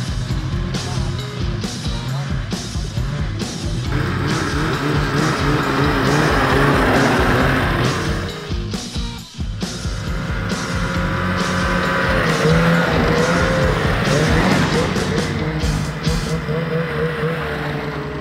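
Snowmobile pulling away on a smooth groomed trail in deep Revelstoke snow, engine revving up loudly and holding a strong rising whine, with a short dip midway before surging again.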